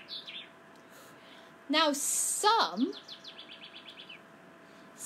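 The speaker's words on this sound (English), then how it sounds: "look at those birds eating up all the seed" Small birds eating scattered seed give quick bright chirps and tweets, a loud burst of calls clustered in the middle with fainter twitters around it, while a voice speaks briefly.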